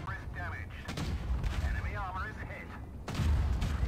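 A FV-4005 tank with a four-shot drum fires its cannon in War Thunder, sharp heavy booms repeating in short bursts amid mechanical clatter, while someone talks over the gunfire.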